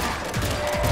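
Bursts of gunfire from a gun in a video game, a rapid run of shots sounding close and fairly loud over the game's background noise.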